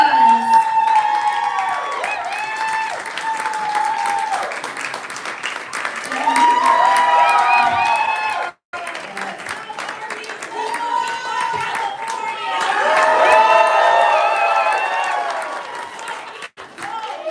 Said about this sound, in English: come out and take the applause